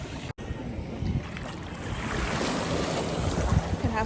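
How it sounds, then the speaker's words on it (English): Ocean surf at Luquillo Beach, Puerto Rico: a continuous wash of waves that swells louder toward the end, mixed with wind buffeting the microphone and a brief dropout near the start; no one speaks. "This is Luquillo Beach"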